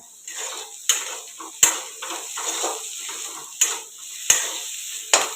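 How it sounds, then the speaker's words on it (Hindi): A pan sizzles softly as vegetables fry before potatoes go in, with sharp metallic knocks of a spoon against the pan every second or so over a steady frying hiss. "थोड़ा सा मैंने इसको फ्राई कर लिया है और अब मैं मिलाऊंगी इसमें आलू"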